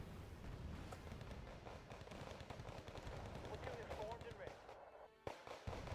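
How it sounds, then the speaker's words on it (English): Naval ship gunfire in the Wargame: Red Dragon strategy game during an amphibious assault on Busan, heard as dense rapid cracks and booms in a steady barrage, loud and close, continuing to the end with a brief break near the finish. "And here comes the fire from our ship."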